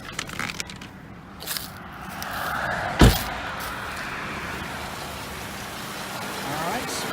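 A car door on a silver 2007 Volvo XC90 AWD shuts with a single solid thump near the middle, set against a low steady hum and faint movement around the vehicle.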